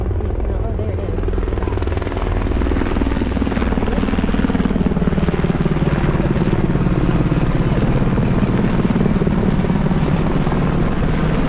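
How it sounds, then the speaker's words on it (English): A helicopter drones steadily overhead, its rotor chop a loud continuous thrum throughout. "I hear a helicopter."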